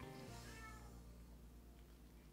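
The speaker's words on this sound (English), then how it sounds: "Did your cat just say ow?" A house cat gives one short meow at the start, fairly close, then fades into a steady low room hum.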